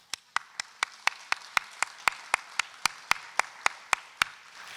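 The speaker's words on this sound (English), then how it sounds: "Can we give them a round of applause?" A lone clapper's steady, evenly spaced claps, about eighteen sharp hits, in a quiet hall, offered to farmers in the audience at a farmland and open space preservation talk.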